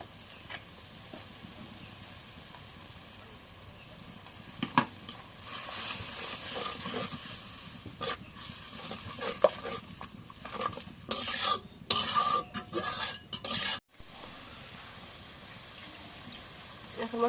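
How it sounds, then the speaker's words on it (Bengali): Spices and garlic paste frying in a pan, stirred and scraped with a utensil, with sizzling and clattering that grow busier midway and turn into sharp bursts near the end, some faint voices in the background. "এখন মশলাটা কষানো হয়ে গেছে"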